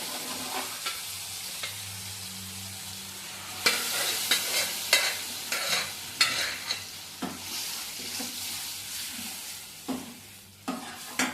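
Lentils (dal) go into a pan of softened tomatoes and fry with a steady sizzle, while a spoon scrapes and stirs in repeated, distinct strokes.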